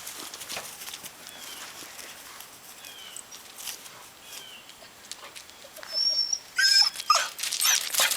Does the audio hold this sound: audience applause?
no